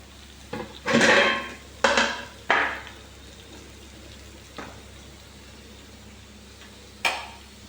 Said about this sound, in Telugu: ఇది కొన్ని ముక్కలు ఫ్రై అన్నమాట